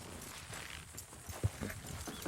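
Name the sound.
horses pulling a wagon, hooves clopping, Red Dead Redemption 2 video game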